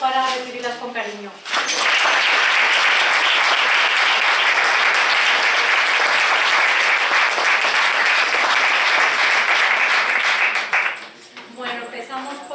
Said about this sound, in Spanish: os pido un buen aplauso para recibirlas con cariño